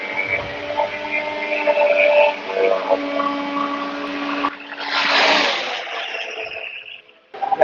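A high-revving Formula 1 car engine at Bahrain testing whines at close range, holding a sharp tone, then a loud rushing burst as it roars past and fades.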